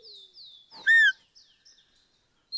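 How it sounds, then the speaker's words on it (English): Bird calls from the hunting game Call of the Wild: a string of thin, high whistled chirps and downward-sweeping notes, with one loud, clear whistle near the middle and a final short chirp after a pause. "Oh, this bird is pretty nice. Although loud, but I like that. Very high-pitched whistle."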